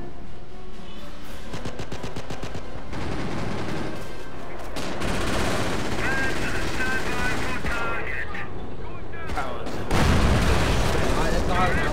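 Machine gun fire in the World War II strategy game Company of Heroes crackles in rapid bursts within a dense, continuous battle soundscape, with loud thumps near the end and a voice talking over it.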